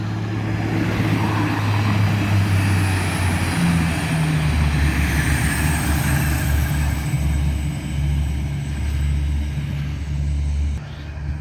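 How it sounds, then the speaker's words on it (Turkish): A train rolls past in the evening at a residential spot, a loud steady low rumble with grinding and humming that holds throughout and drops away near the end, with no one talking. "Trenimiz de gidiyor arkadaşlar."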